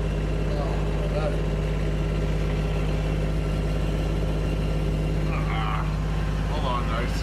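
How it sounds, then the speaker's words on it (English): A Kubota tractor engine idling as it warms up in cold winter weather, a steady low mechanical hum close by and continuous, with a person talking over it. "a lot of your wasted time in the winter goes on your tractor is just, warming it up"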